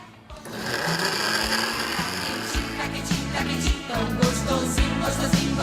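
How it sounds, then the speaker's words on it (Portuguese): A blender whirs loudly as it mixes the liquid ingredients for gluten-free, lactose-free sandwich bread, a steady motor buzz with rhythmic pulsing throughout. "a gente vai primeiro dar uma primeira batida aqui no liquidificador dos ingredientes líquidos"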